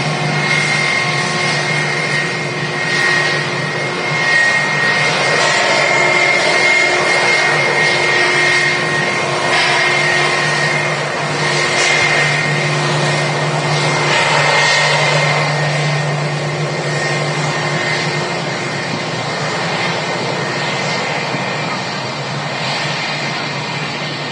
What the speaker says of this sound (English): Looks like the Air France A380 is on the taxi out as well.